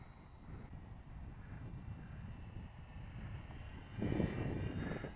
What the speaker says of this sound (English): This is just such a relaxing aeroplane to fly.